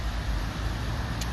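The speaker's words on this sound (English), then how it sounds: "as you can see in the video, we've got a lot of cars going past" Cars passing on Pershore Road make a steady, fairly close wash of low traffic rumble and tyre noise with no pauses.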